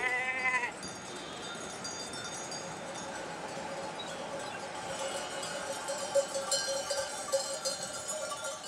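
A nomadic herd of goats and sheep moving through Iran, with clanking cowbells and scattered bleats over a continuous shuffling background, fairly close and steady throughout.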